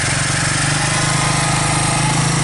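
A 2001 Suzuki Quadrunner 250 4x4 ATV engine runs steadily at close range, a loud, even chugging idle with a rapid regular pulse and no talk over it.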